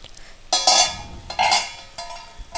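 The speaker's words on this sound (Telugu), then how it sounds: "ఇప్పుడు ఒకసారి మూత ఓపెన్ చేసి చూద్దాం." The metal lid of a cooking pot lifts off in a few bright clanks and scrapes, close by in a home kitchen, with short pauses between the contacts.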